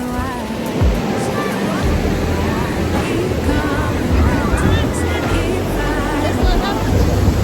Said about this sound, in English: We are at the beach,